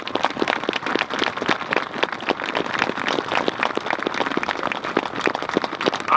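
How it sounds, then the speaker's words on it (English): Applause for the men and women in uniform at a Presidents Day event with Governor Terry McAuliffe, rapid distinct claps from a modest group, close and continuous throughout. "Let's give a round of applause to the men and women in uniform today that are fighting for our great nation"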